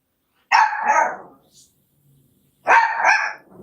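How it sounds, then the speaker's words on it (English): A pet dog named Charlie lets out two sharp, close barks about two seconds apart, with a faint low growl in the quiet gap between them. "That's my dog growling."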